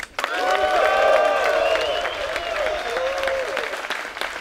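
Crowd at the 2019 USDGC disc golf final nine applauds and cheers loudly for player Nikko Locastro, a sustained wash of clapping with whoops layered on top, steady for several seconds before easing slightly.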